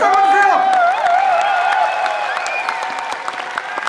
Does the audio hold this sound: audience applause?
yes